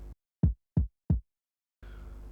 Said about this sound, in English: let's go ahead and find some nice drum samples